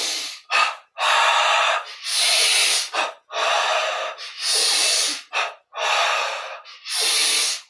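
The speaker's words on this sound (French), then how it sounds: "Grande respiration." Deep, exaggerated breathing during a Kriya Yoga exercise, a series of long hissing inhales and exhales through the nose and mouth, close and loud, in a steady rhythm with brief pauses between breaths.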